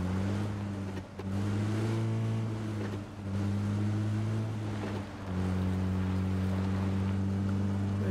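Aston Martin car driven in PUBG casual mode, a steady droning engine hum with gear-shift dips and rising pitch, loud and continuous without speech.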